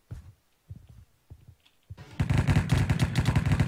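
Gunfire in the Minecraft Hypixel Cops and Crimes video game: a few sparse single shots, then a loud, rapid burst of repeated shots, with no talking.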